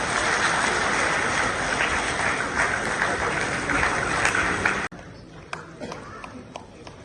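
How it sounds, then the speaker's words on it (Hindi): A crowd at a Van Mahotsav-2025 tree-planting event in Jammu claps loudly and continuously for several seconds, then the applause cuts off abruptly, leaving a few faint taps and quieter room sound. "जोरदार तालियां।"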